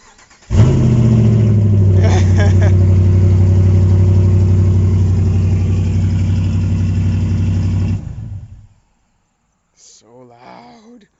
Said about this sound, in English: I think I have to do the obligatory car guy thing of start it up with straight pipes.